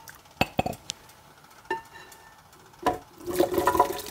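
Hot bean soup is poured into a blender after a few sharp clinks of dishware, ending in a short, close, splashing pour.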